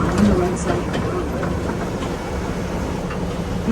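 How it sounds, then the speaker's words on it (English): A tourist tram rolls along a road with a steady low rumble and engine drone, rattling faintly throughout, heard from on board under a constant noisy background. "As the tram travels along Officers Row"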